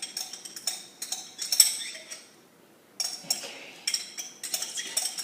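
Minced garlic is scraped from a small container into a pan with a series of light metallic scrapes and clicks that come in short bursts, pause briefly, then resume, close and fairly quiet.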